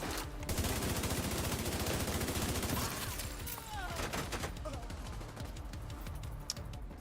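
Hipfire gunfire in The Division 2: a sustained automatic burst of rapid shots for about three seconds, loud and close, then fading into scattered quieter shots and impacts.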